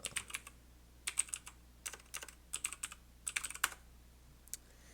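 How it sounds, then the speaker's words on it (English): Fingers typing on a computer keyboard in short irregular bursts of crisp clicks, close and fairly quiet over a low steady electrical hum, with pauses between bursts and no speech. "Cold fingers, not typing right."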